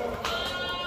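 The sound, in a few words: Malwa goat bleating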